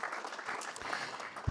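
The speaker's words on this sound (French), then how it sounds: "Sous vos applaudissements, bien sûr." Audience at an economic forum in Marrakech-Safi applauding to welcome a speaker, a steady, fairly soft patter of clapping hands from a seated crowd.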